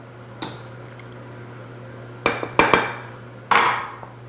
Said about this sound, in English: I like to mix my egg a little bit into the flour before I dump the liquid in